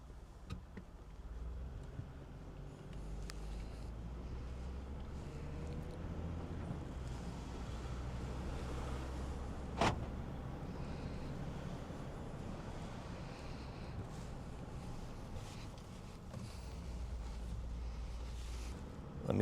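A car rolls slowly through a quiet residential subdivision with its windows down, giving a low, steady rumble of road and wind noise at moderate level, with a brief clunk partway through and no speech.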